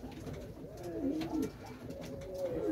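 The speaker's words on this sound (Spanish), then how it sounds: "Ahí sale la paloma." A pigeon coos from a balcony on a sunny day in a soft, repeated rolling rhythm, fairly close and moderately quiet, with faint outdoor background.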